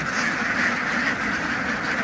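A flock of ducks quacking together, a dense, continuous chorus of overlapping calls close by.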